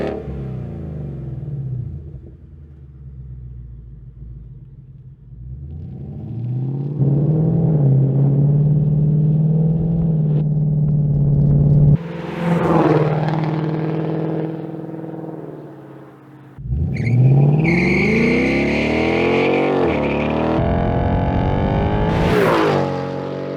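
A 2018-2020 Ford Mustang GT V8 fitted with a MagnaFlow xMOD exhaust, running the muffler module with the block-off plates removed, idles with a deep rumble, then revs up twice in strong, sustained pulls and drops back, loud and close.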